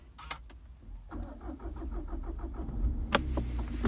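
A Seat Ateca engine started by its keyless push button: a short crank of rapid rhythmic turnover catching into a steady idle hum, preceded by a couple of faint clicks and ending with a louder clunk, heard close up with no talk.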